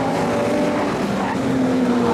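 Nostalgia sedan race cars at Maryborough Speedway roar past in a dense, steady wall of engine noise, close and loud with shifting engine tones throughout.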